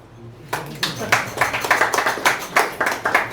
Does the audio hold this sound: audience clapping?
yes